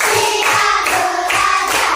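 Schoolchildren clap in unison during a classroom ice-breaker, loud rhythmic rounds of many hands repeating in even groups close by.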